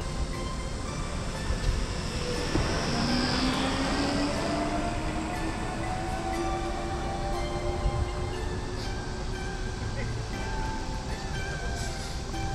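An electric motorcycle at a Chinese factory picks up speed, its motor whine rising steadily in pitch over a constant loud rush of wind and road noise, with no pauses.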